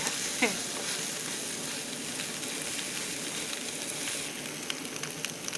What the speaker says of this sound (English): We've been stirring it for like 10 minutes now